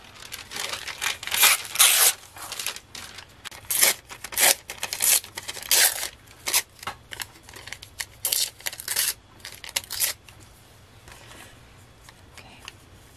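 Green paper being torn by hand in a series of sharp, close ripping strokes, with quieter crinkling and handling between the tears.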